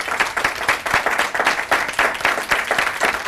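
An audience claps in a steady rhythm to cheer on Dr. Alan Bauman, the hair-restoration surgeon, with fairly close, even clapping throughout.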